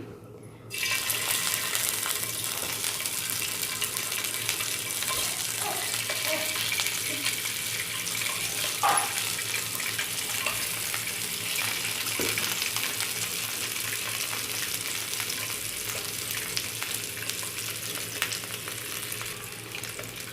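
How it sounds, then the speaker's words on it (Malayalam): Eggs sizzle steadily in a hot pan used for roasting coconut, a continuous crackling hiss with a couple of faint clinks, close and unbroken. "ഇപ്പോൾ നമ്മൾ മുട്ട ഫ്രൈ ചെയ്തെടുക്കാൻ വേണ്ടിയിട്ട് തേങ്ങ വറുത്ത് വെച്ച് അതേ പാൻ വെച്ചിട്ടുണ്ട്"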